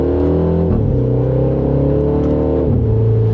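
A 2026 Mini JCW Countryman with a dual-clutch gearbox accelerates from second gear, a steady loud engine drone climbing in pitch with quick gear shifts, heard from inside the car without talk.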